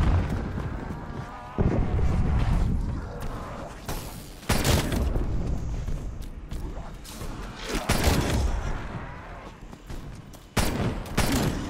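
Frag grenade blast amid a Call of Duty Cold War zombies firefight: heavy booming bursts land every few seconds over nearly constant loud gunfire and mechanical clatter, with no clear talk.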